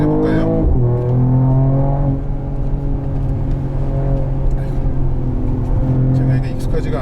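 A 2022 Mercedes-AMG GT43 4Matic+ engine drones steadily in manual shift mode on a winding mountain road. Its loud, tonal hum holds a gear, then dips and rises as it shifts, under a driver talking inside the cabin.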